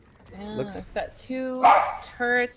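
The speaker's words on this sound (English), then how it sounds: "Sorry, excuse my dog." A pet dog barks and yips several times close by, its short bursts mixed with a person talking over it.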